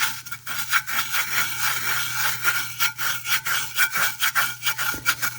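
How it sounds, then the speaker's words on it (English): A hand rubs holographic glitter into the surface of a resin tumbler, giving a close, steady run of dry swishing rubs in quick rhythmic strokes, with no talking. "So take your hand and just start rubbing it in."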